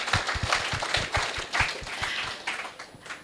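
An audience applauds the mothers at a community event, a dense, steady patter of many hands clapping for a few seconds with no talking over it.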